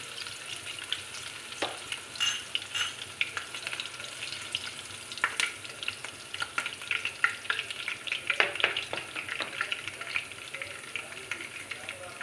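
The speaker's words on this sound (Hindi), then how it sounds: "इसको तकरीबन 30 सेकंड के लिए मैं इसमें फ्राई करूँगी" Green chillies fry in hot oil with a steady crackling sizzle, broken by sharp pops and occasional stirring, close and moderately loud with no talking.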